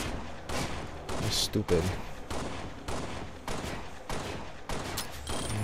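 Pistol shots from the game Halo: Spartan Assault, fired in an even, repeated rhythm of sharp bursts throughout, with someone talking briefly over them.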